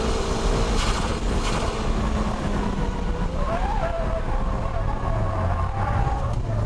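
Car drifting through a third-gear 100R corner at Ebisu circuit, its engine droning steadily as tire squeal rises and falls over a constant roar of wind and road noise.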